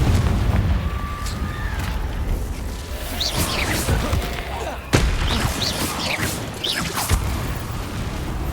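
Confringo fire spell blasts in the Hogwarts Legacy video game, heard as sharp booming impacts and crackling bursts over a dense, noisy game soundscape with effects layered throughout.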